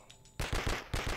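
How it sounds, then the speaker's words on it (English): Explosions in the multiplayer game Blood and Bacon: after a quiet moment, a rapid series of four or five loud, sharp blasts bursts out in quick succession, close and punchy. "That was one truly massive explosion."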